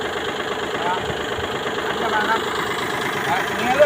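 An old imported Japanese Kubota L1-185 tractor engine runs at a steady idle, a continuous close mechanical chug with faint rattle throughout, at a consistent level.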